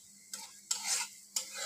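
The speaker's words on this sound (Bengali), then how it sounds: "রসুনটা খুব সুন্দর লাল লাল করে ভেজে নেব" Garlic frying in oil in a pan sizzles in three short, close bursts as it is stirred, with near-quiet gaps between them and no voices.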